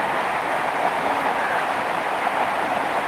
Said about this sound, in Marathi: पाऊस खूप मोठा आहे